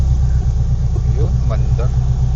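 A Mitsubishi Lancer at a car meet tries to start: a steady, close engine rumble runs throughout, with a few voices faintly in the background.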